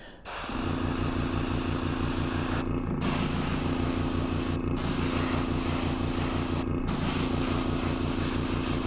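An airbrush sprays paint onto a diorama model in a steady, close hiss, broken by a few brief pauses in the airflow, with no talk.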